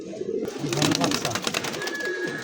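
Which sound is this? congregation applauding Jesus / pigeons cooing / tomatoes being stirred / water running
pigeons cooing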